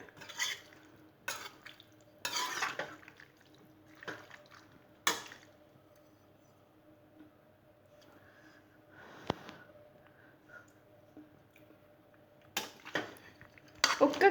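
A spoon stirs homemade lemon pickle in a pot over a low gas flame, giving scattered metallic scrapes and clinks at uneven intervals, fairly quiet over a steady low hum, with no one speaking.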